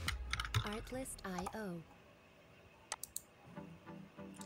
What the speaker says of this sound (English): Let me type the name after.